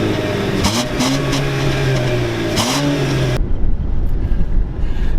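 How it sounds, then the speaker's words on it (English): Exhaust of a 2015 Jeep Cherokee Sport with the 2.4 liter Tiger Shark four-cylinder, a steady close engine drone that rises with revs, then cuts to a rougher lower rumble. "Insert exhaust clip here."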